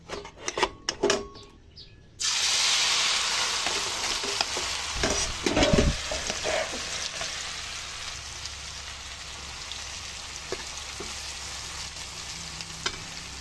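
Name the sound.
chili frying in hot oil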